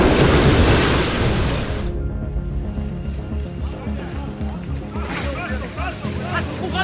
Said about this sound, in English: Rockfall like this is usually water doing quiet work.